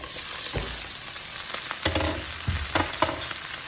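Fish frying in hot oil in a pan, a loud, close, continuous sizzle with a few brief bumps and scraping stirs breaking through the crackle.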